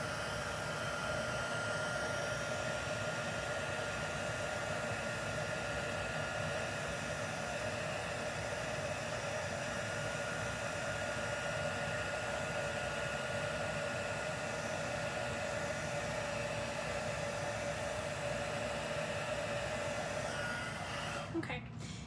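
Heat tool blowing steadily to melt embossing powder, a constant loud whooshing hiss with a whining tone that runs unbroken for over twenty seconds before cutting off at the end.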